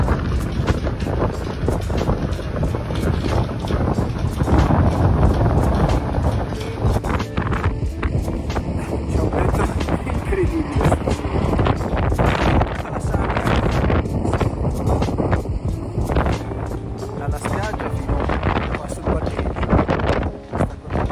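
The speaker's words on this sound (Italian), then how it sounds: "vi faccio vedere quanto vento tira adesso fuori" Strong wind gusting outside on a beach, a loud continuous rushing buffet against the microphone with heavy low rumble, steady throughout.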